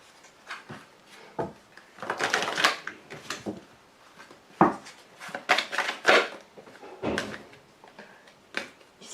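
Oracle cards being shuffled and drawn by hand for a reading, giving a run of close, papery slaps and flicks in irregular bursts with no talking.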